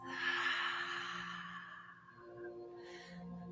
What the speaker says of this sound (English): Take a deep breath in through your nose. Exhale it out your mouth.